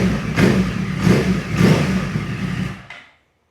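Yamaha R1 motorcycle engine revved with three quick throttle blips over idle, each surge rising and falling, before the engine is cut off into silence.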